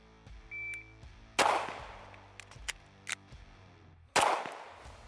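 Two sharp, loud pistol shots from a Bul Armory Tac Pro 2011 fired about three seconds apart, each with a short ringing decay, plus lighter clicks and handling noises between them.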